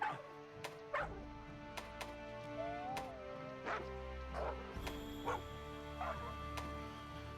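Dog barks and yips from the dog companion voice options in Monster Hunter, several short separate calls spread through a game menu backdrop with steady tonal music, fairly close and clear.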